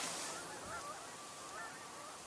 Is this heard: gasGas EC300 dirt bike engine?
no